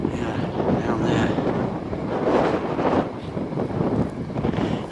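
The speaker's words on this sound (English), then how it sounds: "it's really blustery today" Loud, steady wind buffets the microphone outdoors on a blustery day at the Wroxeter Roman City ruins, a continuous roaring rumble with gusts swelling and easing throughout and no voices.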